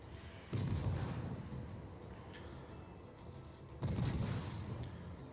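Two heavy naval gun salvos of armor-piercing shells boom out roughly three seconds apart in a warship video game, each a loud, deep blast with a rumbling tail.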